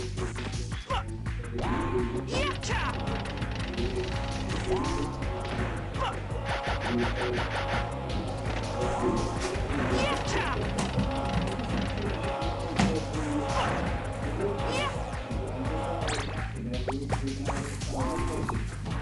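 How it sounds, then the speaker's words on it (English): Factory platform machinery grinds and ratchets continuously in the Ape Escape video game, a steady clanking mechanical churn of gears and pawls running loud and dense for the whole stretch. "Hitting this switch will actually start the platform moving"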